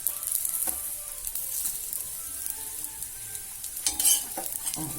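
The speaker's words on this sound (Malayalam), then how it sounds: "ഇതെല്ലാം കൂടി വറുക്കുക." Grated coconut, a masala spice mix, garlic, shallots and curry leaves fry in oil for a breadfruit curry, giving a steady close sizzle broken by spatula scrapes and stirring, with no talking.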